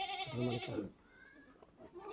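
A goat bleats loudly at close range while giving birth on a goat farm, one drawn-out cry followed by quieter sounds.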